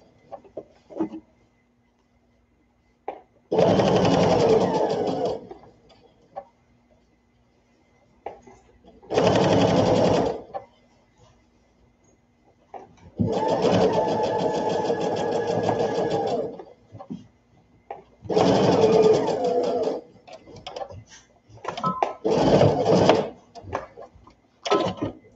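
Domestic sewing machine stitches a seam on a baby sunsuit in several bursts of steady, close whirring, a few seconds each, with quiet gaps and soft handling noise between them.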